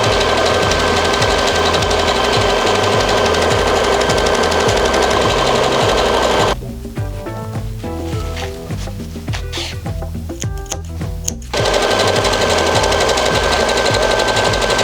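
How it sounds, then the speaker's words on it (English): Sewing machine running gathering stitches on fabric for a fitted bustier dress, a loud, fast, even mechanical rattle close by, briefly pausing to quieter handling clicks midway before resuming, with no talking. "The next step now is to sew in some gathering stitches"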